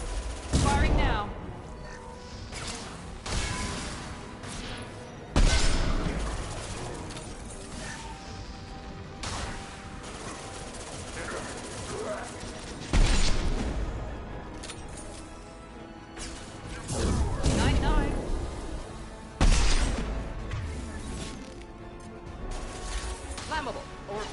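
Gunfire in the sci-fi shooter Mass Effect 2, with scattered shots and several sharp, heavy blasts standing out over battle noise, while voices talk through much of it.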